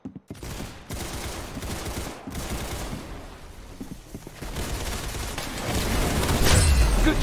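Rapid bursts of gunfire crackle through a Roblox Arsenal match, volleys of shots stacking up into dense fusillades, with the heaviest, loudest firing in the final seconds.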